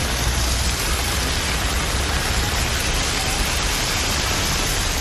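Heavy rain pours steadily over the Sivaganga and Manamadurai area, a dense, even hiss that stays constant and loud throughout with no talking.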